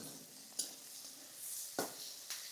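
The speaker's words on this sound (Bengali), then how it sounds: "এই পেঁয়াজগুলোকে খুব ভালো করে নাড়তে হবে।" Onions fry in a pan for Bengali bean bhorta, making a faint, soft sizzle with three sharp spatula scrapes spaced about a second apart.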